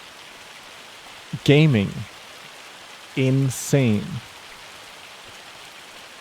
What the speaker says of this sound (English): It's however raining a lot now